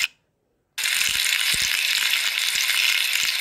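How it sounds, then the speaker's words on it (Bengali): Paneer pieces fry pakora-style in plenty of oil on medium heat, a dense, loud, continuous sizzle that bursts in suddenly after a moment of silence, with soft crackles and pops underneath. "খুব তাড়াতাড়ি ভাজা হয়ে যায় পনির"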